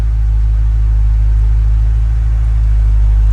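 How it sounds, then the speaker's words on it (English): A Mercedes W210 engine on cold start holds a deep, steady low rumble, loud and close, with no talking. "It's got a really deep rumble and cold start."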